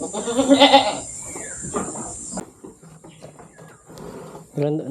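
A goat bleats loudly near the start, with quieter animal calls and a short bleat at the end, amid farmyard background noise.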